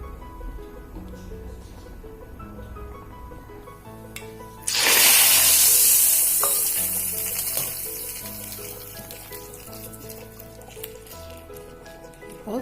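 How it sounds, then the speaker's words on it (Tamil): A sudden loud sizzle of mustard seeds and a dried chilli dropped into hot oil bursts in, then slowly fades to a softer crackle over quiet background music. "கடுகு, ஒரு வத்தல் போட்டு தாளித்து இதில் கொட்டலாம்"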